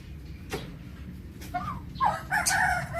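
A rooster crows nearby, joined by clucking hens, with a few sharp calls rising over a low outdoor background in a wet, muddy yard after rain.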